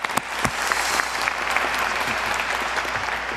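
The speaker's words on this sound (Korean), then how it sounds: "경주의 박수 부탁드리겠습니다." Audience applause at an event for a military officer cadet, steady dense clapping from a crowd throughout, loud and close with little talk.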